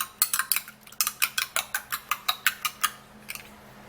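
A utensil beats egg whites in a bowl, making about twenty quick, evenly spaced clinking strokes against the side, close and crisp, with no talking.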